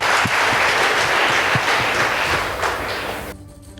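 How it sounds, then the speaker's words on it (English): A school audience applauds the Ngoto Boys High School debate team after their presentation, a full, steady burst of clapping that gradually thins before cutting off. "Please give them a round of applause."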